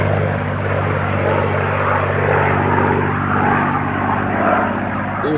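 A P-51 Mustang propeller fighter flies aerobatics at an air show, its engine giving a steady loud droning roar with a rumbling low throb throughout.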